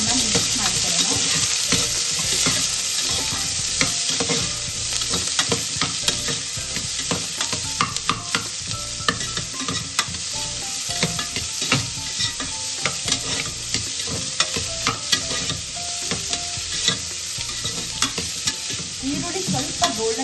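Sliced onion frying and sizzling in oil in a pan for a vegetable kurma, stirred continuously with steady scraping and clattering, loud and close with no talk.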